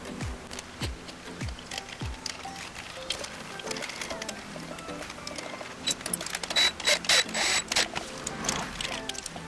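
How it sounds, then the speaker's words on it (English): A 1/4-inch ratchet snugs crankcase bolts on a YZ250 two-stroke engine, with a run of rapid, close ratchet clicks that grows denser toward the end amid light handling noises. "we're just going to snug these up with a 1/4" ratchet"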